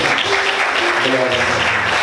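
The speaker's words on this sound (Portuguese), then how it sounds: "Quantos podem aplaudir Jesus?" A church congregation applauds in praise of Jesus, with steady, dense clapping and voices rising over it.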